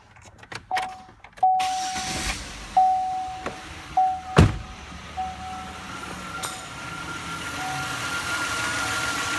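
A 2006 Pontiac Montana engine runs steadily just after starting, a low idle hum with a few sharp clicks and a faint whine, heard close with no talking.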